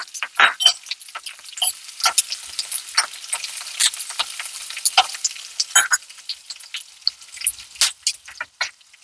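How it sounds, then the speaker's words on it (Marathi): Vegetables fry one batch at a time in hot oil for dhaba-style paneer tawa masala, heard as sharp crackling spits and pops in irregular bursts over near silence, close and fairly loud. "तर आता याच्यात आपण तेल टाकतोय आणि ही प्रत्येक भाजी अशी वेगळी वेगळी आपण फ्राय करून घेणार आहोत."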